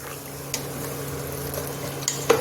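Fried rice, potato, lentils and vegetables go into a pot of hot water with a steady hiss and sizzle, punctuated by a few sharp clinks of utensil on pot.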